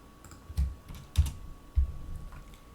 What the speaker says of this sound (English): You can simply type this address, it's relatively easy.